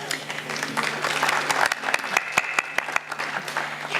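Audience applause at the 2019 Future Policy Award ceremony on youth empowerment, a burst of many hands clapping that swells and then thins into scattered claps over a few seconds.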